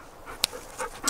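A dog pants in quick, soft breaths at close range, with a sharper snuffle partway through and no talk.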